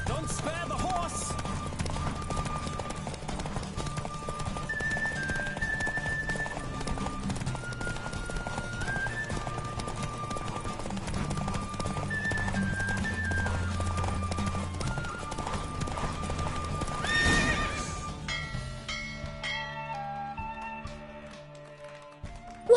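Rapid rhythmic hoofbeats of a galloping horse in a horse race in The Witcher 3 over a steady musical backdrop, with a brief whinny near the end before the music thins out.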